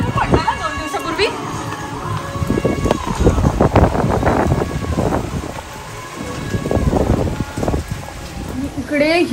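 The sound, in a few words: heavy rain falling in London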